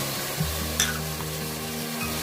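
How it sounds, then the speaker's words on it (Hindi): Chicken hearts stir-fried with red chilli and turmeric in a pan, a steady close sizzle with a few spoon scrapes and a brief louder stir, no voices over it. "5 से 6 मिनट तक भूनेंगे"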